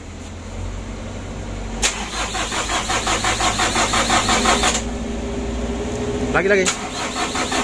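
Tour bus engine with worn piston rings turned over by the starter, a rapid pulsing crank for about three seconds, then a steady running rumble, with someone speaking over it.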